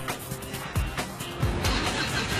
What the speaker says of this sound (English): they open up the throttle and let rip in a closed room